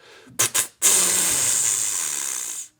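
Two short, sharp breathy snorts, then a drawn-out airy wheeze lasting about two seconds, made by a human mouth mimicking a buck's snort wheeze, close up.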